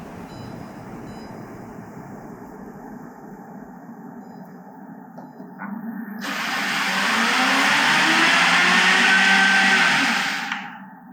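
A countertop blender roars at high speed while crushing ice and chopping, starting around six seconds, loud and steady with a rattling grind, then cutting off near the end. Softer background noise fills the time before it starts.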